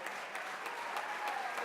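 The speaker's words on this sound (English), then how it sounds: "Let's give a round of applause for Barbara" Guests at a 2014 ceremony applaud a couple celebrating their 31st wedding anniversary, a soft, distant patter of clapping that carries on evenly throughout.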